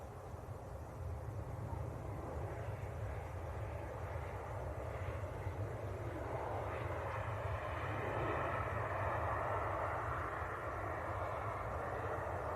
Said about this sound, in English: Finnair from Helsinki. An E190, Embraer 190.